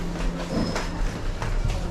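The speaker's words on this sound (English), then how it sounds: "this is where the train station is" A train at the Kuala Lumpur International Airport rail station bound for KL Central, heard as a steady rolling rumble with faint rhythmic clicks and a high squeal, close by and alone.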